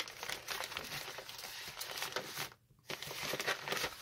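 Gift wrapping paper, held without tape, is crinkled and rustled as it is unwrapped, producing soft, continuous crumpling with one brief pause.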